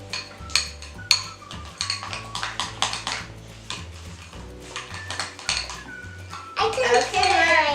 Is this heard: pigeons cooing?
no